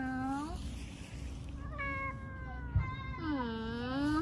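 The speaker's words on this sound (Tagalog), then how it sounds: "Kasi takot ako sa pusa eh. Meow meow." Street cat meowing: three drawn-out, rising-and-falling meows at an even pace, close and clear over a quiet background, with a brief soft knock in the middle.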